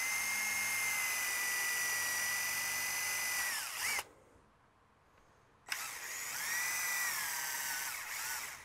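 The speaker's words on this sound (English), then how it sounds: "Excuse me while I drill these ones." A power drill cuts a pilot hole for tom drum legs, a loud high whine running steadily, cutting off into near silence, then restarting with a sharp catch and whining on to the end, no talk.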